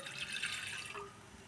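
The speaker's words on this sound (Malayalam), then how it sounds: "3/4 ഗ്ലാസ് വെള്ളം വീത്താം." Water is poured into a pot of tamarind rasam, a short steady splashing stream close up that tapers off after about a second.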